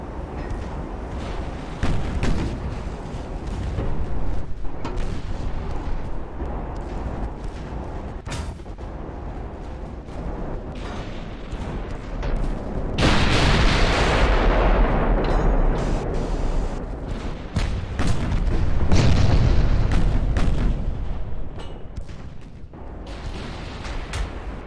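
Naval ship guns boom in Ultimate Admiral: Dreadnoughts during a 1915 Dogger Bank battle, with repeated deep blasts and rumbling salvos building into heavier bursts over a continuous roar.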